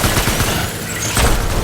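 Rapid gunfire in the video game Death Stranding during a boss fight, a dense, loud barrage of overlapping shots with low booming thumps throughout, steady and unbroken for the whole stretch.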